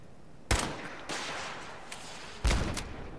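An enemy's gunfire in the video game Fallout 4: several sharp, loud shots and short bursts, spaced irregularly with brief quiet gaps, the last pair close together near the end.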